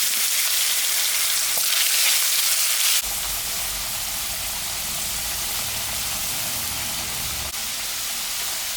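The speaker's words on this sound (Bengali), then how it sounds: "আলুটা ভাজে নেব।" Potatoes fry in a pan of hot oil tempered with mustard seeds, cumin and dried red chilli, a steady close sizzle with occasional stirring scrapes, the hiss shifting in texture partway through.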